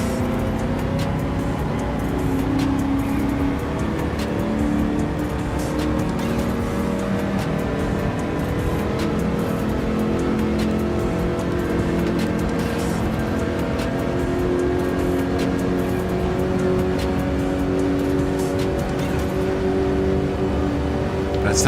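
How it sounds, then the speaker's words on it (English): A race car driven in Gran Turismo 7 on PS5: a continuous engine drone with rising and falling revs and repeated gear-shift changes over about twenty seconds, steady and moderately loud, with no talk. "The shifting sounds incredible. I do like how it sounds when you shift it."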